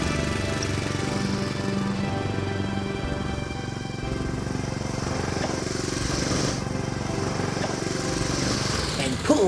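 A lawn mower engine drones steadily and loudly nearby throughout, a continuous buzzing hum with little change in pitch, with only a brief shift right at the end.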